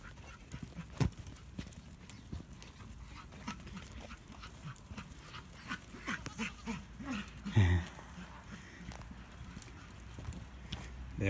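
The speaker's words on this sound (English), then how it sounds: "There they go, a whole bunch of goats." A herd of goats runs outdoors, producing faint scattered hoof clatter and rustling footfalls over about eleven seconds, with a few louder thumps partway through and distant ambient noise.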